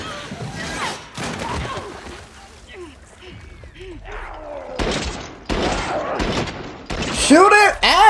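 Sharp gunshots go off in The Last of Us Part II, scattered single blasts and thuds between quieter game sounds, growing denser toward the end, with a player's voice calling out over them.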